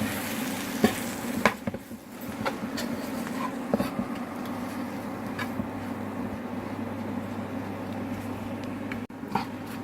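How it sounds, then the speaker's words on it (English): Flour being stirred into a hot pan for a vegan nut roast, giving a steady low sizzle and frying hiss with occasional scraping clicks from stirring, close and continuous with no talk. "cook the flour in for about a minute or so, make sure that everything's covered in the flour"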